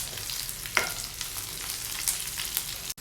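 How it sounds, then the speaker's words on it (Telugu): Tomatoes fry in a pan for tomato pachadi, a soft steady sizzle with a few faint scrapes of stirring, quiet and close with no talking. "ఇలా మధ్య మధ్యలో మిక్స్ చేసుకుంటూ ఫ్రై చేసుకోవాలండి, మాడిపోకుండా."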